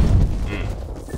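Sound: grenade explosion in video game Black Ops Cold War

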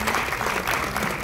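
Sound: audience applauding festival partners

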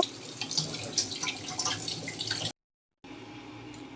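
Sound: washing gourd leaves in running water

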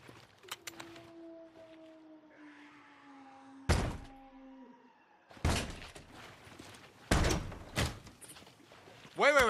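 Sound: door being tried and opened

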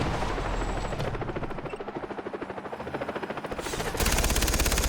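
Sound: helicopter approaching in the video game Far Cry 3

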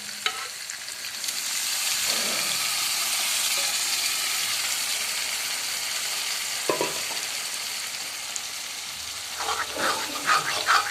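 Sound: lentils added to hot tempering, sizzling

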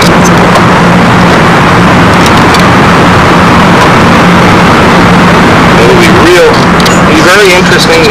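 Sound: model airplane 91 four-stroke engine running

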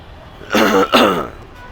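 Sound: cough from someone with a cold

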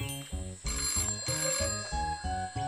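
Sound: telephone ringing

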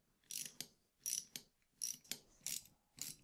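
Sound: tightening nuts on zinc U-bolt mount

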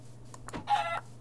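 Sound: chicken clucking in the video game Minecraft

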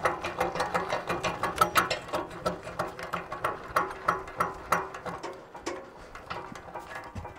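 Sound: cranking a jack on a log splitter

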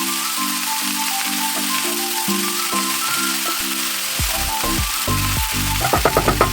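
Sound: cabbage frying in a pan

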